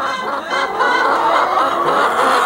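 Chickens cluck continuously in a dense, busy chorus, close by and fairly loud, with no pauses.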